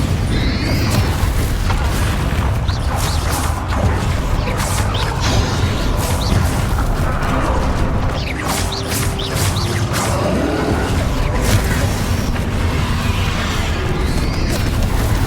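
Bombarda and Confringo spells hurl explosions during a duel in the Hogwarts Legacy video game, a dense, loud stretch of booms, crashes and whooshes layered over one another with hardly a pause.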